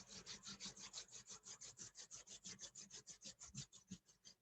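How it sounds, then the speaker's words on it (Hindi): Steady, rhythmic friction of two palms rubbed briskly together during a guided meditation, about five strokes per second, close and fairly quiet, with no talking. "अब दोनों हथेलियों को रब करें."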